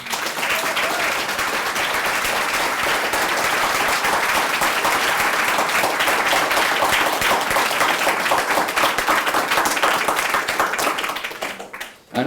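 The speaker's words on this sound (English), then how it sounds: "Please join me in giving one more round of applause for the 2013 graduates." Loud, sustained audience applause for the 2013 graduates at a Paris business school graduation, a thick, steady roar of many hands clapping for about twelve seconds before dropping off abruptly.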